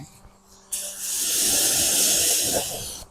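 A water spray rinses a car during decontamination, bursting on suddenly after a quiet moment and holding a loud, steady hiss close by for over two seconds before cutting off.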